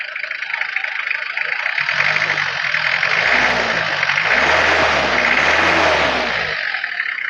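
A 1995 Isuzu Panther 2.3 diesel engine is revved with the oil dipstick hole opened, giving a loud clattering drone that swells through two rising and falling surges before settling back to idle.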